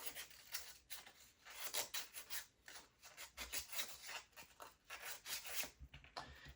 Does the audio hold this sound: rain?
no